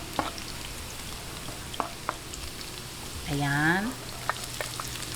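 A pan sizzles softly and steadily while ingredients are sautéed to light brown for Marinduque kare-kare before ginger goes in, with occasional utensil clicks, a brief whistling squeak and a single short spoken word.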